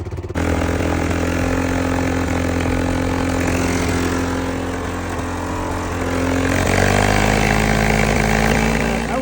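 A Yamaha Grizzly ATV engine runs close by with a possible exhaust leak, a loud, rough, throbbing idle that rises briefly in revs partway through, with no voices.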